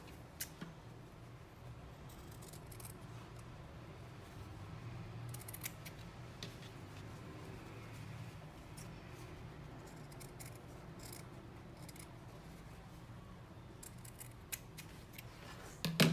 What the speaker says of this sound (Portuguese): Agora eu corto.